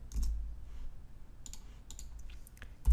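Sparse keyboard keystrokes on a computer while a PHP file is being edited in a Linux terminal, a few light clicks scattered through a mostly quiet stretch.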